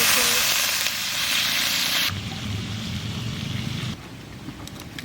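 Fish masala for katla kosha frying in a pan as a splash of water goes in, giving a loud broadband hiss and sizzle that steadies, then drops to a softer simmering sizzle.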